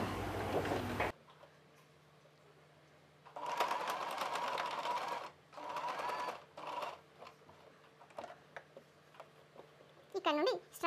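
Domestic sewing machine stitching a kids summer frock in short bursts of rapid mechanical whirring and ticking separated by quiet pauses, close by, with a voice talking briefly at the start.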